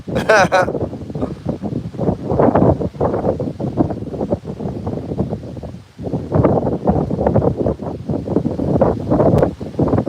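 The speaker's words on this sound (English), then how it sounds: "Holy, the wind." Strong gusting wind buffets a microphone outdoors near water, a loud rough roar that rises and falls in surges, with a voice speaking under it.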